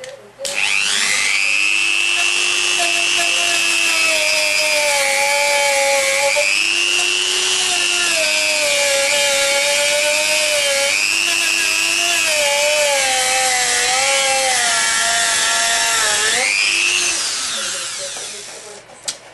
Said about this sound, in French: Je vais tester avec la petite brosse en métal.